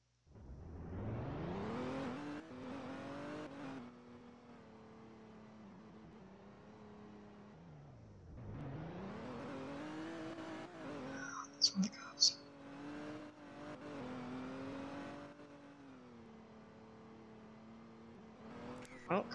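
A classic Shelby engine in the Roblox video game Emergency Response revs up and settles repeatedly, droning at a moderate, steady distance, with brief sharp clicks partway through.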